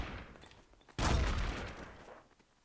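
A gunshot burst in Garry's Mod Trouble in Terrorist Town, one loud sudden blast with a rumbling tail that fades over about a second, over quieter background game noise.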